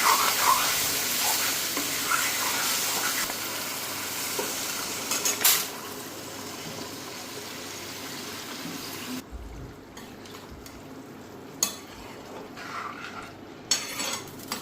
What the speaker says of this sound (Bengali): ওইদিকে মশলা ভাজা হয়ে গেছে, এখন সিদ্ধ করা ডালটা দিয়ে দেবো।